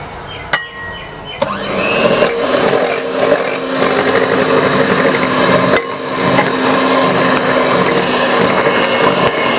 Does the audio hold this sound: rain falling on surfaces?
no